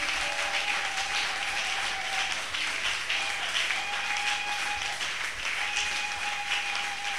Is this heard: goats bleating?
no